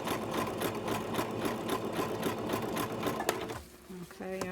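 A sewing machine stitches a sock for an embroidered outfit, with a rapid, steady rhythmic clatter up close that then stops, followed by a few faint mechanical clicks.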